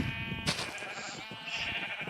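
Sheep bleat in a wavering, nasal call that starts abruptly and trails off, heard at a moderate distance over steady background noise.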